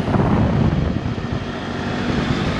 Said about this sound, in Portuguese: aqui eu vou soltar o drone para ter uma noção do parque aqui por cima